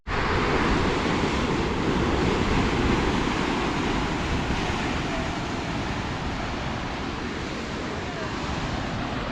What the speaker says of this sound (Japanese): 風強いね、やっぱり。